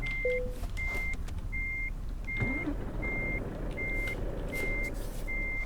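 A truck in the Euro Truck Simulator 2 game sounds its reversing alarm: about eight evenly spaced electronic beeps repeat steadily over a low engine rumble, with no talking.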